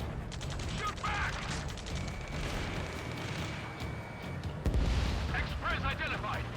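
Gunfire and explosions in an Ace Combat 7 battle, rapid bursts of shots and a heavy boom near the end, under frantic radio chatter from several voices.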